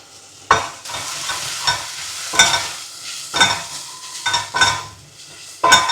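Garlic and herbs fry in a pan with a steady sizzle, broken by sharp scrapes and clinks as a utensil stirs against the pan every second or so.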